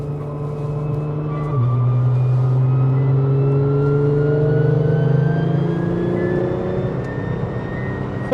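A 1000hp Nissan GTR on track during warm-up laps, its engine droning steadily with rising and falling tones as it accelerates and shifts, loud and continuous with no talk.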